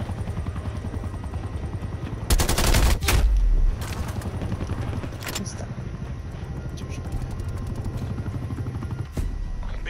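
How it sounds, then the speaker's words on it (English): An attack helicopter in the Call of Duty Black Ops Cold War video game keeps up a steady rotor drone throughout, while bursts of gunfire and explosions cut in loudly over it. "Hostile attack helicopter inbound."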